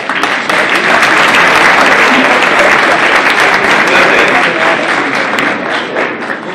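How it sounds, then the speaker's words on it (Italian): Sustained applause from a lecture audience at an Italian school event, a dense, steady wash of many hands clapping for several seconds before easing off slightly at the end. "l'applauso è per tutte e due"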